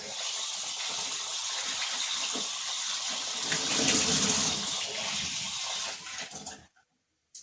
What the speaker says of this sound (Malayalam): നമുക്ക് നന്നായിട്ട് കഴുകി കഴുകിയെടുക്കാം